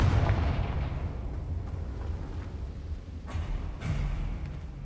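A Confringo fire spell bursts in Hogwarts Legacy with a heavy booming blast, followed by a rumbling crackle and a couple of sharper impact pops.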